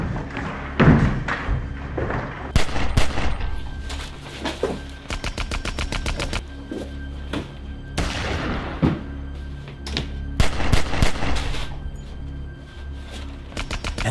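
Gunfire erupts in a Black Bat movie gun scene: scattered heavy thuds and sharp shots, then rapid bursts of repeated cracks, loud and close with brief gaps between volleys.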